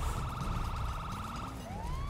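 Police car siren in the GTA 5 video game, a steady fast-warbling electronic wail over a low rumble, with a second rising tone sweeping in near the end.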